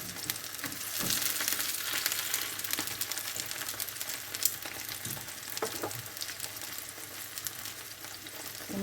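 A frozen hash brown frying gently in a pan over moderate heat, giving a steady close sizzle and crackle with occasional small pops, heard alone without talk.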